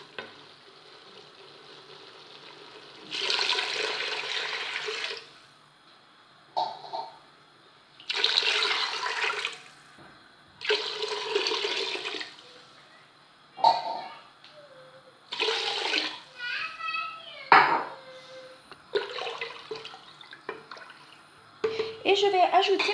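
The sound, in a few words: pouring 1.5 to 2 litres of water into cooking pot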